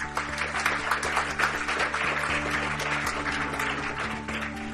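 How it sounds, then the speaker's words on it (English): A conference audience applauds the speakers at the close of a sustainability session. Many hands clap at a steady, moderate level throughout, with a faint background hum. "If we could give them a round of applause."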